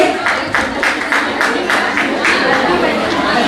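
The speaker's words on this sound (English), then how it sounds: "Please a big applause to our Sodi winner" A Women's Day celebration audience applauds a prize winner with a broad burst of clapping, some rhythmic claps pulsing through, while chatter from the crowd mixes underneath.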